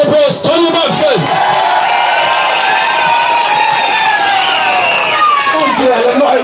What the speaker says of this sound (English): Big round of applause, Tanya Buxton.